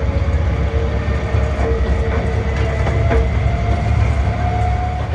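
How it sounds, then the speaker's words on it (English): Locomotive on the Ruislip Lido Railway, a miniature line, backing slowly down onto its train: a steady low engine rumble with rail clatter and faint metallic clicks, continuous and fairly close. "We turned it, took it off one end and backing down onto the train"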